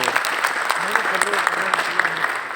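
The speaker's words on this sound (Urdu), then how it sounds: "اور تالی اگر بجانی ہے بھرپور بجا دیں ورنہ رہنے دیں" Audience applause fills an arts council hall in Lahore at a first death-anniversary tribute to a broadcaster and actor, a steady crowd clapping that runs throughout, with faint voices mixed in.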